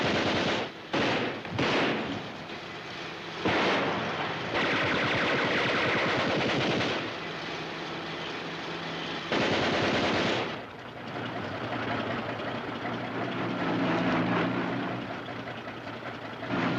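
Sustained machine-gun fire from a 1963 World War II TV drama, dense rapid bursts rattling almost continuously for many seconds, loud and close, with no speech.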